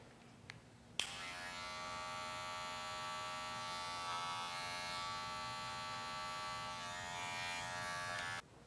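A Wahl electric hair clipper fades the sideburn area in a barbering cut. It switches on with a click and then hums steadily with a close, bright buzz for about seven seconds before cutting off.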